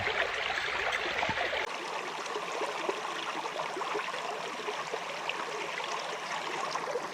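A small creek flows steadily beneath a bridge, its even, close rushing and trickling water filling the whole stretch without pause.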